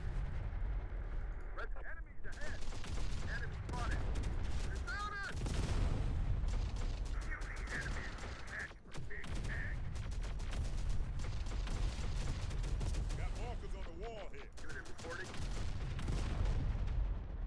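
Gunfire and heavy explosions in Terminator Dark Fate Defiance: a dense, loud barrage of repeated booms and shots filling the whole stretch, with a voice talking over the battle.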